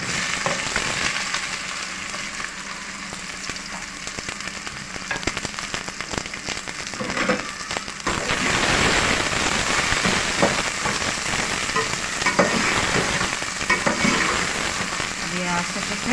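Onions fry in hot vanaspati ghee for a khara masala keema, a loud, dense, continuous sizzle and crackle close by that swells slightly midway, with a voice talking underneath.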